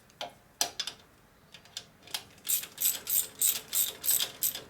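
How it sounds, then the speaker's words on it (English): A clamp is tightened onto a spigot during a Harley 650 single XL Sportster rebuild for land speed racing, making a run of close, crisp ratcheting clicks, first sparse and then in quick rhythmic bursts. "Go ahead and tighten this clamp down a little bit and it'll center up on the spigot."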